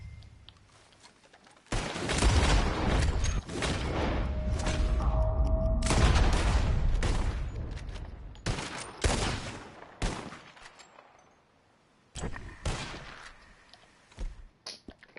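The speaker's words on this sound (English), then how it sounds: "As soon as you see them, start shooting." Gunfire erupts in Red Dead Redemption 2, loud overlapping shots and volleys forming a sustained fusillade for several seconds, then scattered bursts with brief pauses before a few final shots.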